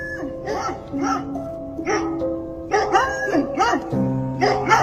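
Several dogs bark behind a gate in a residential cul-de-sac, sharp repeated bursts in irregular clusters, close and loud with some yips mixed in.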